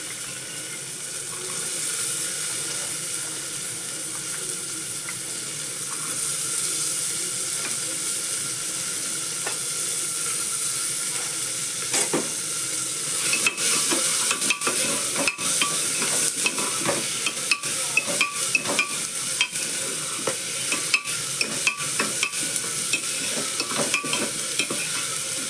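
Sliced field beans and potatoes drop into a hot pan and sizzle steadily and loudly, with a bright frying hiss throughout and clattering stirring scrapes that get busier in the second half.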